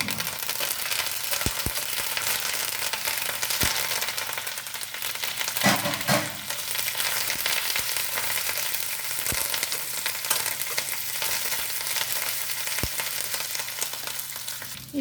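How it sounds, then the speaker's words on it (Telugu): A steady, loud sizzle of green chillies and curry leaves frying in hot oil fills the whole stretch, with a few soft clicks and one brief stir partway through. "ఇప్పుడు ఈ మిరపకాయలు కొంచెం ఏగనిద్దాం ఇప్పుడు పచ్చిమిర్చి కరివేపాకు వేసేది"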